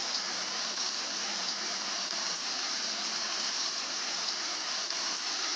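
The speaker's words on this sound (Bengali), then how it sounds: "দারুণ একটা শব্দ আসছিল বৃষ্টির।" Heavy rain pours down outside a house, a dense, even roar of water that continues without pause and with no voices.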